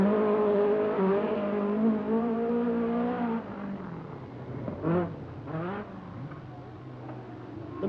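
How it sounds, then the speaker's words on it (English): Timo Salonen's Nissan rally car on a 1984 Lombard RAC Rally stage, its engine holding a steady loud drone before shifting through two sharp revving surges as it passes, with no voices. "What a way to convalesce, bouncing along in 5th place in the Nissan."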